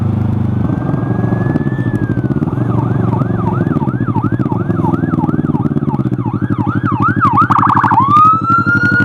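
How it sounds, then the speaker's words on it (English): An ambulance siren passing on a road, a loud wailing tone sweeping up and down in a steady cycle that rises in pitch as it closes in, over constant engine and road rumble with no talk. "Another ambulance."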